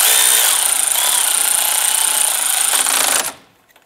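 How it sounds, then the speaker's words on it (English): Power tool tightening a bolt on the front lower control arm of a 2008-2013 Nissan Rogue, a loud, steady rattling whir held for about three seconds before cutting off abruptly. "Let's go ahead and tighten down the bolt."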